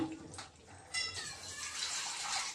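Water from a tap pours into a cooking pot of pumpkin and taro curry in a home kitchen, a close, splashing and bubbling stream lasting a couple of seconds, heard alone.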